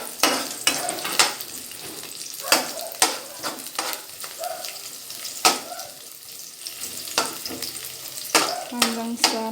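Onion and garlic sautéing in oil for adobong sitaw with chicken, a close, steady sizzle punctuated by repeated sharp scrapes and clanks of a utensil stirring the pan, with no voices.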